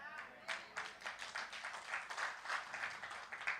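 A church congregation claps at a Christmas service, giving a dense, uneven patter of many hands at moderate distance, fairly soft overall, with a voice talking over it.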